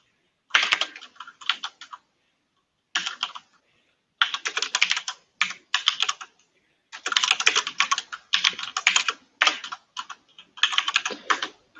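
Rapid bursts of typing on a computer keyboard, close and crisp, with short pauses between clusters of keystrokes and no talking.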